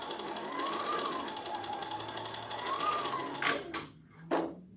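A sewing machine runs steadily while pieces of fabric are stitched together, a continuous mechanical whir with a couple of sharp clicks near the end.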